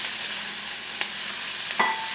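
Diced garlic and onions sautéing over low heat in a pan, a faint steady hiss with two small clinks of a utensil, close by and without speech.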